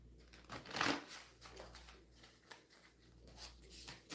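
A deck of playing cards is shuffled close by, with a loud riffle burst near the start followed by softer, intermittent flicking and rubbing of cards in a quiet room.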